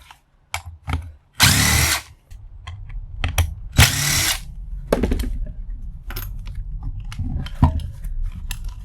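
A power drill removes screws from a used blender being scrapped for copper, with two loud, close whirring bursts of a few seconds each among clicks, knocks and handling noises.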